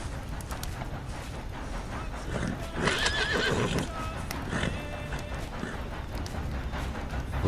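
A video game horse, a rose gray Arabian, whinnies once in a high, wavering neigh, with hoof clops and soft shuffling around it; no one speaks.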